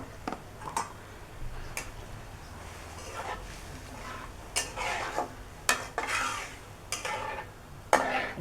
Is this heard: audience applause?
no